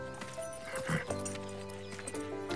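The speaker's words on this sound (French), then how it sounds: "On se fait une balade à cheval." A horse walks along during a ride in a ranch setting, its hooves clopping at a steady, moderate pace amid soft tonal background sounds and no clear talk.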